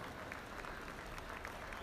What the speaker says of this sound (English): Give a big round of applause to the kids.